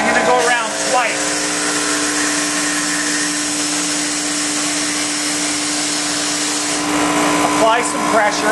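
A GEM GSBM20 edging machine polishing an edge: a loud, steady motorized whine and hiss with a constant hum, running continuously throughout with slight changes in pressure near the start and end.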